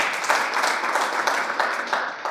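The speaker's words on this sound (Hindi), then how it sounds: "उनके लिए भी जोरदार ताली हो जाए एक बार" Audience applause at a public event on an ONGC stage, a dense wash of steady clapping from a crowd lasting the whole moment, fairly loud and even with small swells.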